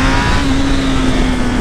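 A new motorcycle engine revs steadily while being ridden on the streets of São Paulo, a loud, continuous drone with a steady whining tone that holds through the whole short stretch, with no voices over it.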